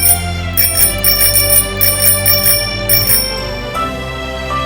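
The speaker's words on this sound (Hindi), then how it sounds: "अभी भी घंटी बज रही है।" A child's scooter bell rings in quick repeated trills, loud and close, about a dozen rapid dings before it stops, over a steady musical background.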